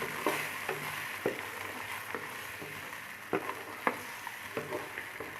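Green chickpeas sizzling as they fry in a pan for pulao, a steady crackle with occasional sharper stir clacks spaced irregularly, close and moderately loud with no talking.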